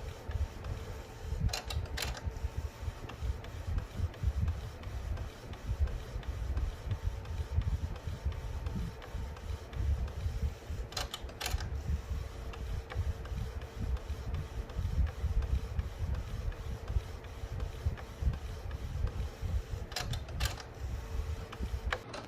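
An Epson ET-8550 converted for DTF printing runs a print, giving a steady low mechanical whir with the print head's periodic sharp clicks and carriage passes recurring every several seconds, close and continuous without any talk.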